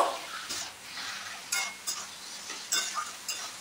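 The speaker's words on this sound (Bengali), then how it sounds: "এবার আমি সেদ্ধ করে নেওয়া মোচা আর আলু কড়াইয়ে দিয়ে দিলাম। কিছুক্ষণ নেড়ে চেড়ে নেব।" Boiled banana flower and potato stirred in a wok for Bengali banana-flower croquettes, giving intermittent scraping spatula strokes over a soft, steady sizzle, close and moderately loud, with no talk.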